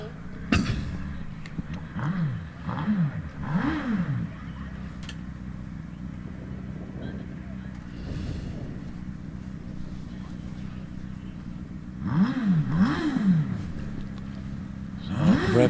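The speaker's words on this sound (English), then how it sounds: "Revs rising." A Force TA 1100 hillclimb racing car engine at Harewood revs in quick, rising bursts at a distance, pausing to a steady idle hum before revving up again near the end.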